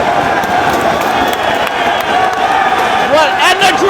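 A loud wrestling arena crowd chants for Ricky Steamboat, a dense roaring mass of voices with rhythmic calls and cheers rising toward the end, close and continuous.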